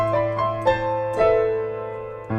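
Short solo piano passage from a song: a more ornate second pass, with a few struck notes over a sustained low chord, clear and close with no voices.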